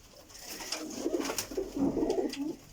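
Pigeons coo nearby in a short series of soft, throaty, rolling calls, several overlapping phrases rising and falling over a quiet background.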